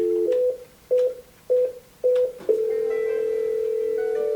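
Cisco 8811/8851 IP phone keyed to dial an extension: four short, evenly spaced DTMF beeps, then a steady tone that sustains to the end, loud and close with no talking.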